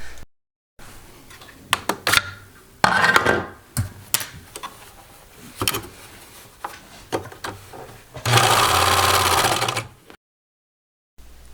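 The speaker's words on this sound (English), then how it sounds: "So once I had the blue thread in my serger, I just went ahead and batch sewed up these 3 pairs of blue type pants." A serger overlocks blue thread on children's pants: scattered close clicks and fabric handling, then a loud steady mechanical whir for under two seconds before stopping.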